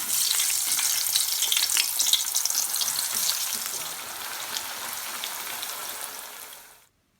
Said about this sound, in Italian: friggerle in abbondante olio extravergine di oliva fino a doratura